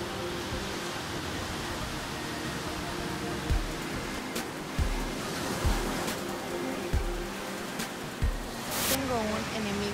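Sea waves washing onto a beach in a constant broad roar, with a few low thumps and a short bright burst near the end, voices faintly under it.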